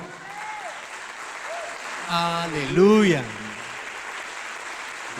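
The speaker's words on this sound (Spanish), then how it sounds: "Denle un fuerte aplauso a la palabra del Señor." Church congregation bursts into a short round of applause after the sermon reading, a brief wash of clapping rising under a voice calling out over it.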